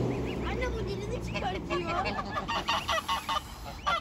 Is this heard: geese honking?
yes